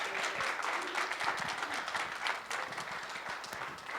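A church congregation applauds during a Sunday service, with steady, dense clapping that fills the room throughout, close and even.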